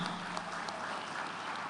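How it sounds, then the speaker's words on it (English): An audience applauds steadily for an investigative journalism award winner at a ceremony, dense clapping filling the hall at moderate distance without pause. "Keep clapping, don't stop."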